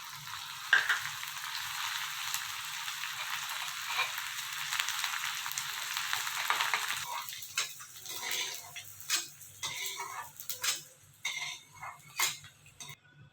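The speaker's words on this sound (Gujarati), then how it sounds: "હવે ગુંદ તળી લઈએ।" Edible gum (gond) fries in hot ghee with a continuous bubbling sizzle that fades after several seconds into scattered stirring clinks and scrapes of a utensil against the pan.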